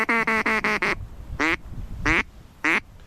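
A duck quacks loudly and close by during a duck hunt near Paliastomi: a quick run of five raspy quacks, then three single quacks spaced apart.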